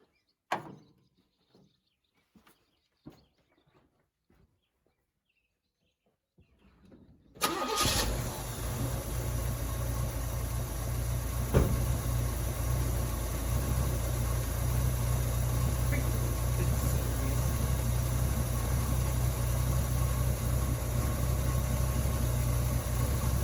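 A few scattered clicks and clunks, then a 1970 Chevy engine, unused for over 20 years, cranks and catches, settling into a steady, loud rumbling idle that continues to the end.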